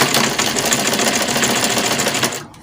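A sewing machine stitches fabric for an A-shape gown with an inverted pleat. It makes a loud, close, rapid mechanical whir with an even needle rhythm that runs for more than two seconds and then stops abruptly, with no talking.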